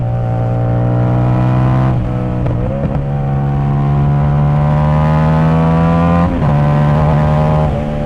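CFMOTO 450ss motorcycle accelerating hard after an ECU flash, its engine note climbing steadily through the revs with a few quick gear-change dips, loud and close throughout, with no talk.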